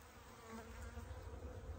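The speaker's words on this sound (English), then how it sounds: "Just gonna shake these bees out here and call her good" Honeybees from a three-pound package buzz steadily while being shaken out during a hive installation, a low continuous hum that swells slightly toward the end, heard close and with no talking.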